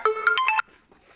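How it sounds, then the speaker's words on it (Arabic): A mobile phone rings in a kitchen during beef preparation: a short burst of bright electronic ringtone notes, loud and close, cut off after about half a second, followed by quiet. "معلش التليفون بتاعي رن"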